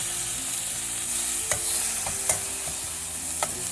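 Chilies and chopped tomatoes fry in a pan for an Indian-style masala quinoa pulao, giving a steady close sizzle broken by a few sharp stirring scrapes, with no voices.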